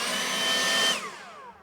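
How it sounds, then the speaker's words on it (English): A Stihl BJA 57 cordless leaf blower runs with a loud, steady airy whir and a faint whine for about a second, then spins down with a falling tone as the airflow fades. "Nice, that doesn't sound any louder than my hairdryer."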